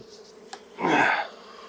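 Honey bees buzz around a hive box during honey harvesting, a brief swelling drone close by that rises and fades within a second against quiet background.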